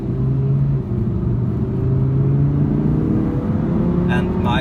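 A 2016 Audi R8 V10 Plus engine runs with a steady deep drone and slight pitch shifts, loud and close, with a brief burst of other noise near the end.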